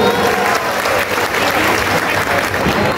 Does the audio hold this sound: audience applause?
yes